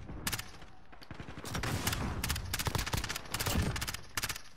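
Rapid MP-7 submachine gun bursts in a Modern Warfare match, sharp repeated volleys of clustered shots separated by brief pauses, loud and close with no talking.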